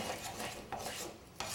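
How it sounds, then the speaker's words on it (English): A spoon stirs a thick toffee mixture in a pot with soft, quiet scraping strokes and faint metallic rubbing, with no voices. "Just stir it to make sure there aren't any lumps in it anymore."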